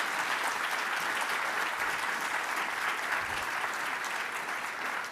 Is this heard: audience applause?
yes